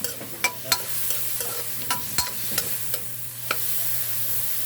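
Pork seasoned with pepper cooks in a pan for a pancit guisado, with a steady low sizzle broken by several sharp clicks and scrapes of a utensil against the pan, fairly close and with no talk.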